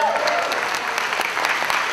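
An audience at a Democratic candidate forum for Hays County judge claps in a short, dense burst of applause that fills the room, with voices mixed in under the clapping.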